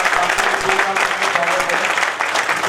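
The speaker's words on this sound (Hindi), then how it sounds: "तालियां से बजवाना चाहता हूँ।" A crowd at a ceremony honouring police officers, held by a jewellers' committee in Uttar Pradesh, India, claps loudly and steadily. The dense applause continues for the whole few seconds.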